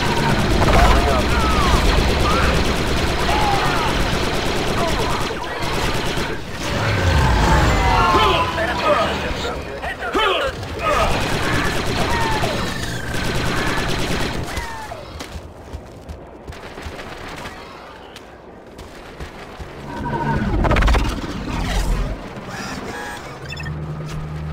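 Blaster fire in a Star Wars Republic Commando battle against Geonosians, loud repeated bursts with mechanical clatter across the scene and radio voices talking at intervals.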